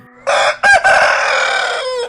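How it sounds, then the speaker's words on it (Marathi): A single loud rooster crow, close up, a short sharp opening followed by a long drawn-out call. "तोच कोंबड्याच्या तोंडून शेवटची आरोळी बाहेर पडली"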